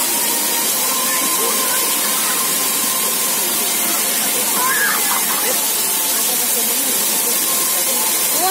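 Water spraying from a musical light fountain in Kaliningrad, a loud, steady, close hissing spray that runs throughout, with people talking faintly underneath.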